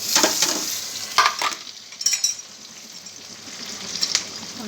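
Potatoes, onion, chili powder, salt and turmeric fry in a pan with a soft sizzle, while a spoon stirs and scrapes in short bursts through the few seconds.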